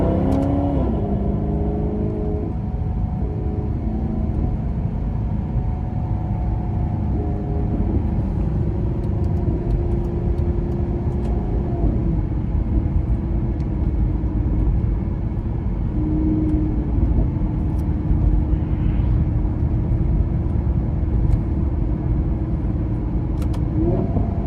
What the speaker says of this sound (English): the exhaust is just so loud and so awesome that you don't even have to worry about the wind noise